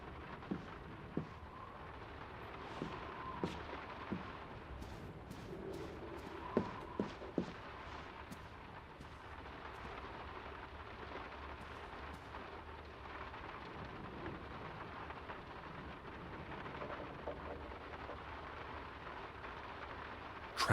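Steady rain falls in the village of the video game Draugen, with faint distant thunder and occasional sharp drips or small knocks over a soft, continuous hiss.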